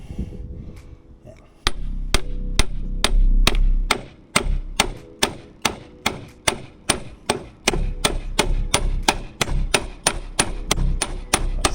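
A hammer strikes the shaft of a Honda Civic FN2 Type R K20 gearbox in a steady series of about two dozen sharp metallic blows, roughly two or three per second, loud and close.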